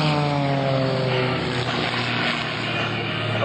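A Pitts S-2S aerobatic biplane comes in to land at an airshow, its engine a steady, loud droning hum that sweeps gently in pitch as it passes, with no talk over it.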